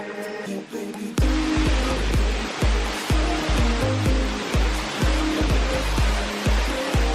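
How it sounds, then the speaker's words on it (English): A Hawaiian waterfall roars as a loud, steady rush of broadband water noise close to the recorder, with rhythmic thumping gusts or handling bumps pulsing through the torrent. "Should you go under the waterfall?"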